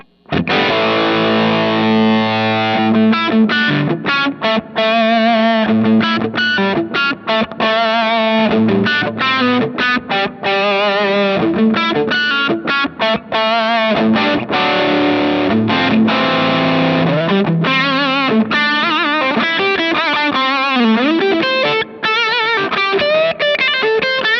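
Heavily distorted electric guitar through a Fuzzrocious Cat Tail pedal set to LED clipping plays a continuous run of notes and chords, gritty and saturated, loud and steady throughout with no talking.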